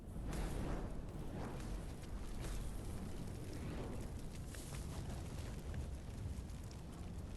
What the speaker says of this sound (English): The exploding firework draws a gawking crowd.